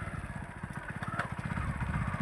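Motorcycle carrying two riders on a road, a fairly faint, steady pulsing engine thump heard from a short distance, with no other sounds over it.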